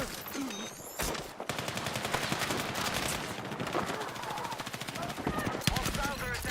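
Rapid machine-gun fire in a Battlefield 6 beta firefight, with several shooters at once: long, loud, continuous bursts of tightly spaced shots after a short lull at the start, with game voices underneath.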